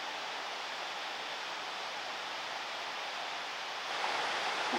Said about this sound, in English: Below, we could hear the sound of flowing water.